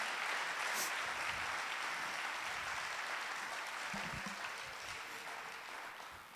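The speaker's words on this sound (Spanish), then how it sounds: "Dale un buen aplauso a Dios." A church congregation applauds at the close of a Spanish-language sermon, a dense, steady wash of clapping from a large crowd that fades gradually toward the end.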